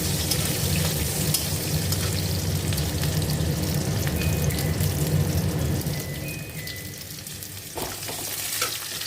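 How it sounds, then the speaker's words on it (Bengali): Onions fry in a pan for ghugni, a dense, steady close sizzle with faint crackles and occasional stirring clicks throughout, easing slightly toward the end. "পেঁয়াজ দিলাম, পেঁয়াজটাকে লাল লাল করে ভাজবো।"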